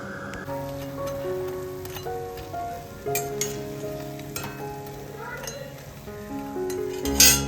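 Fritters frying in hot oil give a steady, soft sizzle with occasional clinks, heard under tonal background music.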